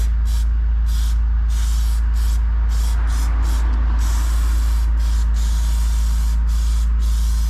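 Gloss black Dulux Duramax paint is sprayed onto a door in short, repeated hissing bursts of varying length over a constant low machine hum, with no voices.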